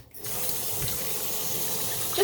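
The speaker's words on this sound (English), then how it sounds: "we're just gonna add some water into it." Cold tap water runs steadily into a turkey being washed in a kitchen sink, a continuous, even gush close up that starts abruptly and continues alone.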